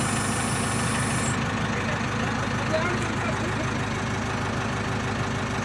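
A tractor engine idles steadily nearby during electric pole loading with a JCB, a continuous low rumble with faint knocking texture and no break across the stretch.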